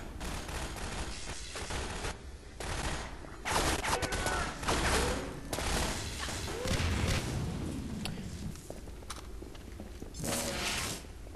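Gunfire in the video game Half-Life 2 Episode 1, repeated bursts of shots mixed with game noise and footsteps, loud and continuous throughout the clip.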